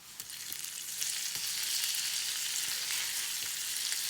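Garlic frying in a pan, likely with butter, giving a steady, bright, hissing sizzle that swells slightly and holds constant, close-up and uninterrupted by talk.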